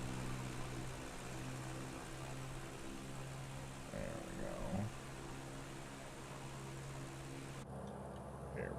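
Steady propeller engine drone of a small airplane held at about 2,000 RPM in a flight simulator game, a continuous even hum with a brief swell midway, heard alone with no talking.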